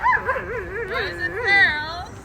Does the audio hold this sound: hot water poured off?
no